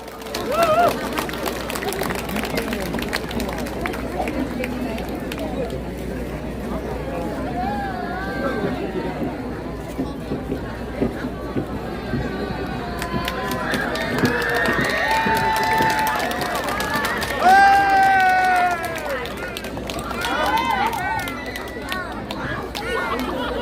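A concert crowd awaiting a girl group's celebration performance cheers and shouts in a loud, sustained roar, with excited high voices rising and falling and a swell of screams partway through.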